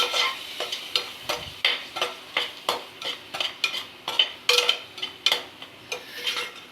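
Carrots and tomatoes sauté in hot oil, a spoon stirring them in a steady rhythm of scraping strokes over a soft, constant sizzle, close and clear with no voices.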